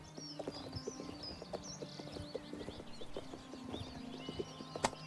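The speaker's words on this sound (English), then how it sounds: "So this probably isn't the best horse by the sound of it." Steady clip-clop of horse hooves at a walking pace in the video game Elder Scrolls Oblivion Remastered, evenly spaced thuds over a soft ambient bed with faint birdsong, one louder knock near the end.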